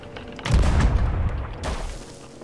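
A heavy, booming ship cannon blast in Sea of Thieves bursts in loudly, rumbles on, then a second sharp boom follows, game-like and close.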